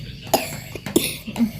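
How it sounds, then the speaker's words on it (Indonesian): A child in a rural family home coughs three times in quick succession, each a short, moderately loud, close burst separated by brief pauses, with no talking in between. "Batuk kakaknya."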